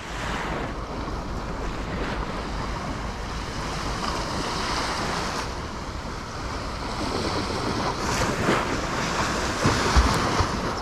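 Steady rush of surf breaking on a sandy shore at Burnaz Beach, Erzin, with wind buffeting the microphone throughout; swells rise slightly louder toward the end.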